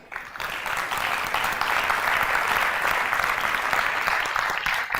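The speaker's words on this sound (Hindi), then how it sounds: "तो इस बात पे जोरदार तालियां आपकी।" An audience at a Jain religious lecture gives hearty applause, a sustained, full wash of many hands clapping that swells quickly and holds steady for several seconds before easing slightly at the end.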